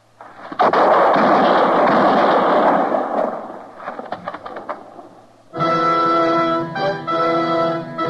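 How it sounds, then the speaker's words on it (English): Gunshots in a Western radio drama, a loud burst of booming, echoing shots that dies away with scattered reports, followed by a sustained musical chord sting. "I heard the shots, Matt."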